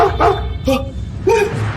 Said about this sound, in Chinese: 听到狗叫